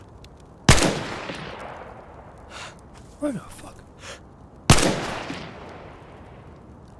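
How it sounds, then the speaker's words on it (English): AK rifle in the video game DayZ fires two loud single shots several seconds apart, each a sharp crack with a long echoing tail, while a man reacts with startled speech in between. "So they've added some new gun sounds. I'm gonna check the AK."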